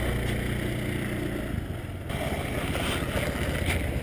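A motorbike engine in Thailand idles and then revs with a low, steady rumble under heavy wind buffeting on the microphone, loud and close throughout.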